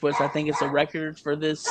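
A dog barks repeatedly in quick yappy bursts with whimpering tones, fairly close, overlapping a man's speech indoors.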